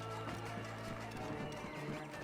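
A camel runs in a chase in the video game Assassin's Creed Origins, its steady drumming footfalls quiet beneath a constant wash of game ambience and music.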